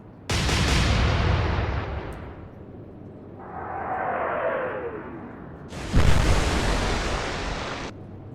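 Heavy 11-inch naval guns in an Atlantic Fleet naval battle game fire twice, each a loud broadband boom with a long rumbling tail, separated by a quieter whooshing shell flight.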